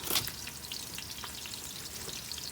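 Halved carrots fry in a pan, giving a faint, steady sizzle with light crackles and pops scattered throughout and no voices.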